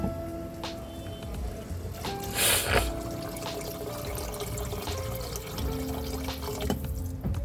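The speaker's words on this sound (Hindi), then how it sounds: "अब हम इसमें डालेंगे पानी।" Water poured into a pot of Punjabi rajma curry with soaked kidney beans, a steady trickling splash running throughout at moderate level, with a brief louder gush near the middle.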